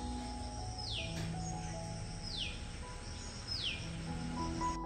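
Birds call outside an outdoor home kitchen in the early morning: three clear descending chirps spaced about a second apart over a steady bed of insect trilling and faint distant background, no talking.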